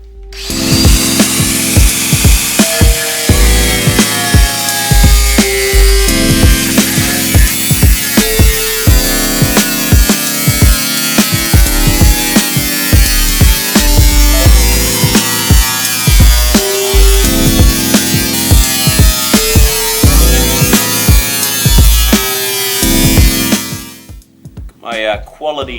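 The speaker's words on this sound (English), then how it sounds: "I'm just going to follow the straight lines with the grinder, and the curves I'll use a jigsaw." A power tool cutting the steel body panel of a Suzuki Samurai SJ413, loud and close, a continuous buzzing drone with rapid rattling chatter that runs for most of the time before cutting off near the end, with no talk.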